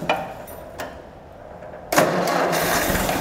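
A 1953 Ford Jubilee tractor engine starts after a couple of faint clicks, catching abruptly and settling into a steady, loud running rumble close by.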